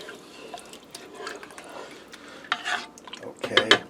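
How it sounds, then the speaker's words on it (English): Rice, sauces, spices and ground beef get stirred in a Curtis Stone multi cooker on sear-saute, producing wet, squelching scrapes that grow louder and sloshier toward the end, close up with no talking. "Give that a stir to get your rice and sauces mixed in with the spices and the ground beef."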